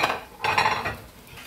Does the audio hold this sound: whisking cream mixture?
yes